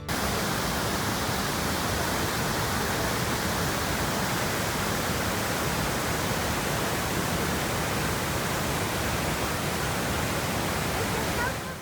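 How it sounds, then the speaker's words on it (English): Gullfoss waterfall in Iceland roars as a steady, dense rush of falling water, loud and unbroken throughout with no voices. "The water of Gullfoss often reflects the sunlight and gives the waterfall a"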